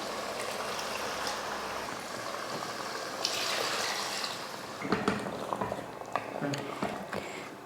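Rinse water from a mixer jar is poured into a simmering Chettinad chicken curry, a steady soft stream and bubbling followed by a few clinks and splashes, close but fairly quiet.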